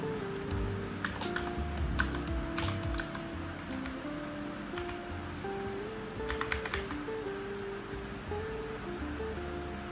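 Keys clatter in short irregular bursts of typing on a computer keyboard while entering variables in SPSS, soft clicks spread over a steady low background hum with no talking.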